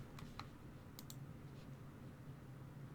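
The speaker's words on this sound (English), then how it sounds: "What if I just type in black?" Typing on a computer keyboard, a few quick, light key clicks near the start and a short cluster around the one-second mark, faint and close over a low background hum, with no speech.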